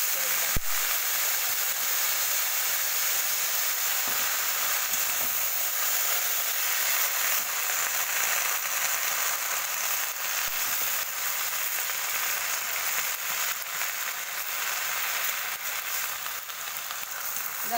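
Pui shak greens added to a hot pan for a Bengali ghyat sizzle and hiss in a steady, continuous fry that holds at an even level throughout, with a brief clatter near the start.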